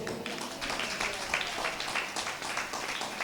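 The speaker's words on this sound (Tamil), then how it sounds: "கைத்தட்டுங்க அப்பாவுக்கு." A church congregation clapping hands during a Tamil sermon, a dense patter of many hands, moderately loud and continuous, with a few sharper claps standing out.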